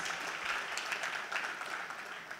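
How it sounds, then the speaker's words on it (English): A room of teachers at a training event clapping for themselves, a brief, moderately loud burst of dense applause with no voices over it. "So give yourselves a round of applause, please"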